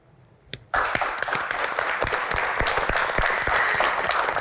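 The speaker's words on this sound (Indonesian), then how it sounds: "tepuk tangan sekali lagi" Audience applause at a Q&A session bursts in loudly after a brief quiet moment and holds steady, dense clapping from a crowd with occasional sharper claps standing out near the front.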